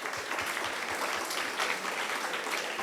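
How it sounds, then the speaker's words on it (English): A school audience at an English debate competition gives a round of applause, a continuous dense patter of many hands clapping at an even level from start to finish. "So you can give a better round of applause."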